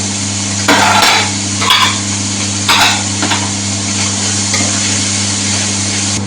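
Vegetables and egg being stir-fried in a pan, giving a steady sizzle with intermittent scraping and clinking of a spatula against the pan over a constant background hum.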